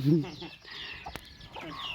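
A hen clucks close by at the start, then quieter chirps and background clatter follow, with a voice faintly audible in the mix.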